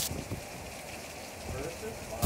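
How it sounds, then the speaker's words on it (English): Wind-driven rain falls on a parking lot, a steady broad hiss of drops on pavement with light gusty swells, fairly faint and continuous throughout. "You can see the wind like pushing the rain."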